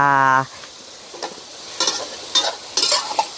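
Pork stir-frying in a pan, a soft sizzle broken by several loud scraping bursts from stirring, after a short voiced sound at the start.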